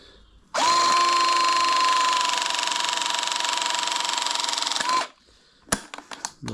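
A hydraulic crimping press squeezes a fitting onto a hose, giving a steady loud mechanical whine and drone that runs for about four and a half seconds and then cuts off, followed by a few brief clicks.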